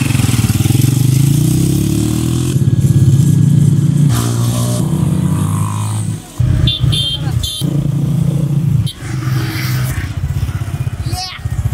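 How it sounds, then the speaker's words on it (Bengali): A motorcycle engine runs loud and close during a test ride, with a steady low drone, brief dips around the middle and a people talking over it throughout. "হৃদয় ভাই আমাদের গাড়িটি মাত্র হচ্ছে টেস্ট ড্রাইভ দিয়েছে"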